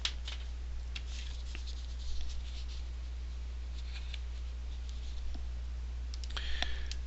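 Soft, scattered button presses on a calculator while working a binomial probability problem, faint close clicks in small clusters over a steady low electrical hum.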